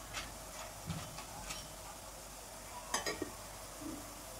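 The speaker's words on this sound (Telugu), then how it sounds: "చూడండి ఇలా కొంచెం రెడ్ కలర్ వచ్చేంత వరకు ఫ్రై చేసుకోవాలండి." Gram flour karapusa frying in hot oil gives a faint, steady sizzling hiss, with a few light utensil clinks midway and no voices.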